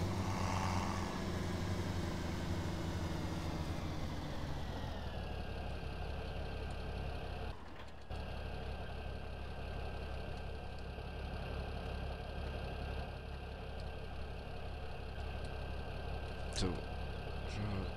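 A John Deere tractor engine idles steadily in a farming simulator game, a low continuous drone with a faint tonal whine that drops in pitch partway, then holds at a constant hum.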